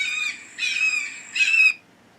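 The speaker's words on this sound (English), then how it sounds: "Red shoulder hawk." A red-shouldered hawk gives three loud, harsh squealing calls in quick succession, each about half a second long, close and clear against a quiet background with no voices.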